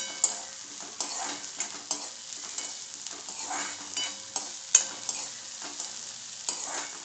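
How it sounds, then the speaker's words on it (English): Green onions and mixed vegetables sautéing in a pan for a bajri veg Manchurian, with a steady sizzle and the occasional scrape or clink of a utensil stirring through it. "Just a quick twist and a quick sauteing of the vegetables"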